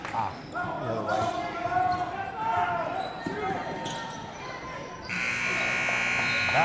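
A high school basketball game in a gym, with sneaker squeaks, ball bounces and crowd noise, then a loud sustained buzzer sounding in the final second and a half to end the quarter.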